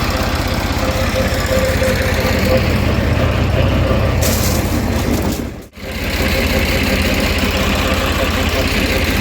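A tractor engine drones steadily while pulling a rotavator that churns mung bean residue into field soil. The running is loud and close, dips briefly for a moment, then resumes, with people talking over it.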